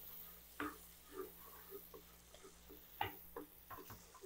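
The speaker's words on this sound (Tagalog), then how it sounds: "Halo-halo hanggang matunaw itong star margarine natin." Star margarine melts in a pan as it is stirred, giving soft, irregular scrapes and taps of the utensil with a faint sizzle underneath, fairly quiet and with no talking.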